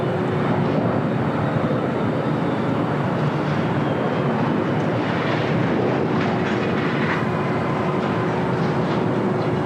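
An airliner takes off on runway 25 right at LAX, a loud, continuous broadband engine roar that holds steady throughout at close range, with no voices.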